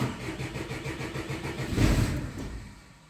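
A Peugeot car with a charging fault being started in neutral: the starter cranks rhythmically, then the engine catches with a loud surge around the middle and settles into a fading idle, heard close up.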